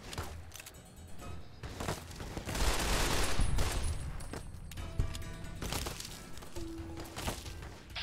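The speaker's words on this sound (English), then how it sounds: "Oh, they're shooting at us already." Enemy gunfire in the Fallout: New Vegas video game, a dense, sustained crackle of shots and bursts running the whole stretch with no voices over it.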